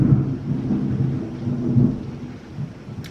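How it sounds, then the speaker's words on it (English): A thunderstorm with pouring rain outside, where a low, rolling rumble of thunder surges and fades over a steady hiss of rainfall, with no voices. "it started pouring and now it's lightning and thundering."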